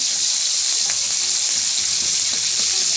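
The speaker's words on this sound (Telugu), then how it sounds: "చూడండి ఉల్లిపాయలు వేసాను ఫ్రెండ్స్, పచ్చిమిర్చిలు కూడా వేసాను" Chopped onions and green chillies sizzle in a pan of oil in a home kitchen, a steady, close hiss with no voices over it.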